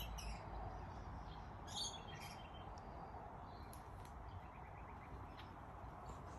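A drongo being hand-fed outdoors in Australia gives a few faint, scattered chirps and short calls over a steady low background hiss, with no talking.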